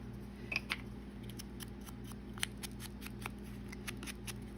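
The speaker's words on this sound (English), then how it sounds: "so I'll probably cut this off" Scissors snip paper while trimming a vintage ticket strip for a craft project, a series of small crisp cuts spread across a few seconds, faint and close over a low steady background hum.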